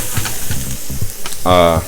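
Vegetables sear in a hot pan with a steady frying sizzle, broken by scraping stir strokes and a louder burst of hissing near the end; no one speaks.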